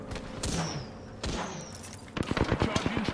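Enemy gunfire in a video game cracks out in quick bursts of rapid shots, close and loud, with a voice talking over the later volleys.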